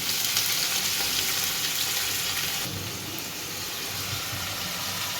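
Ridge gourd, potato and onion fry in hot oil with a steady, dense sizzle up close that eases slightly partway through and carries on without talk.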